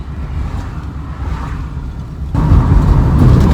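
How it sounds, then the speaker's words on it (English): Loud, low classic car exhaust rumble that grows noticeably louder partway through, steady and close. "this car is just really loud"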